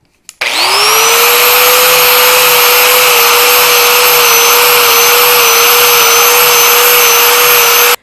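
A power tool fitted with a worn, used sanding disc smooths motorcycle seat foam for a Triumph Bonneville, a loud steady high-pitched whine that starts abruptly, holds at constant pitch and cuts off at the end.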